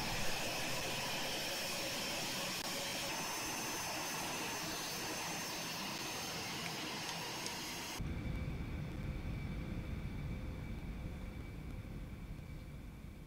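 The jet engines of an Eclipse 550 in X-Plane 11 roar as a continuous whooshing drone with a high whine; partway through the tone drops and thins abruptly as the engines lose power.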